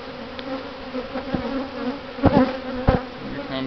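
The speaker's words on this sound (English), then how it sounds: "Bees in a bucket." A close swarm of bees drones steadily while a few sharp knocks and thuds cut in near the end as bees are gathered into a bucket.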